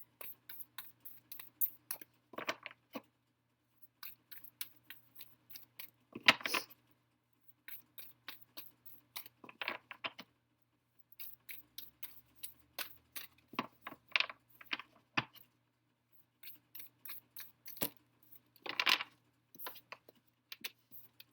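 Tarot cards are shuffled and drawn in quiet, close bursts of crisp flicks and taps, separated by short pauses.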